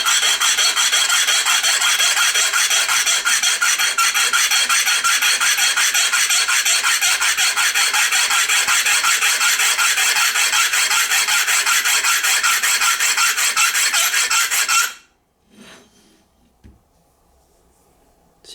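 A straight razor edge scrapes steadily across a honing stone for about fifteen seconds in a loud, even rasping rhythm, then stops, leaving near silence with a few faint taps.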